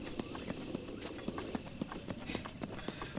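Horse hooves clip-clop in a steady trotting rhythm through a Zelda game scene, with regular close, crisp hoofbeats over a soft ambient bed.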